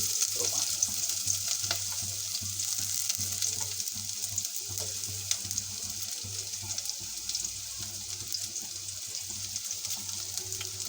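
Onion and garlic frying in a pan for a local chicken curry, a dense, bright, continuous hiss of hot oil with occasional stirring clatter, close up and without speech.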